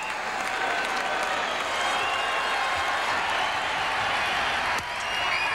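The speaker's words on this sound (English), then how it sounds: "A rolling, rolling, swelling groundswell of applause." Huge baseball crowd at Fenway Park applauding steadily as everyone waits for Yastrzemski's 3,000th hit, a dense, rolling wall of clapping and murmur that holds unbroken, with a brief dip near the end.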